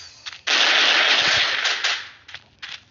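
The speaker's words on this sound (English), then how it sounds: "Oh, there's already a shooting there." Gunfire in the shooting game SFG2 comes as a loud, dense burst of rapid shots lasting over a second, followed by a few shorter scattered bursts as it trails off.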